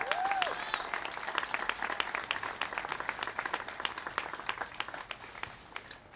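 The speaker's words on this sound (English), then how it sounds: "please join me in giving them a warm round of applause" At the Adams Street Library groundbreaking, a modest crowd gives library staff a warm round of applause, steady scattered clapping that thins out slowly over several seconds, with faint voices underneath.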